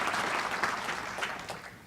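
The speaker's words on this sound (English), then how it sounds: "round of applause" Audience applause at a 2019 city State of the City address: steady, dense clapping from a sizeable crowd throughout, close and fairly loud.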